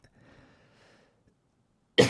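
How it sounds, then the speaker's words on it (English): A single sharp cough from a man presenting a live Linux tutorial, abrupt and close, following a stretch of quiet, faint speech. "I'm sorry for the cough."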